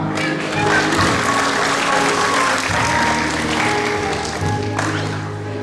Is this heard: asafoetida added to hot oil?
no